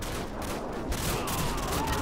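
Gunfire in the video game Call of Duty: Modern Warfare, a dense, continuous burst of shots and rattling fire filling the whole stretch at steady loudness, with no pause.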